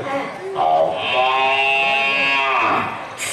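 A performer in a Tamil stage comedy duet uses their voice to imitate a cow, giving one drawn-out, wavering moo that lasts about three seconds and sounds close and fairly loud.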